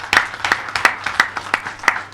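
Sparse hand clapping from an audience, a handful of sharp, evenly spaced claps repeating about three times a second, moderately close and with nothing else over it.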